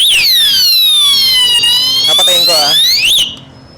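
A loud electronic alarm rings continuously with a shrill, wavering tone, then cuts off abruptly near the end.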